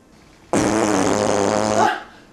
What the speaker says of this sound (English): Girls shouldn't have farting competitions.